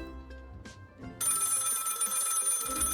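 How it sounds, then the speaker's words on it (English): A telephone rings loudly and close in the video game Lil' Guardsman, bursting in after a quiet stretch of music and holding as a bright, continuous jangle. "The phone is ringing quite loudly."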